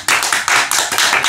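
Steady hand clapping at a quick, even rhythm, loud and close, about five to six claps in a short burst with no voices.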